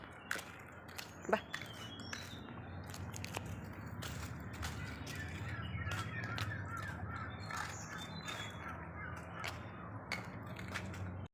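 Crows caw repeatedly outdoors near a house, several harsh calls scattered over a steady low background hum, with brief footsteps or knocks.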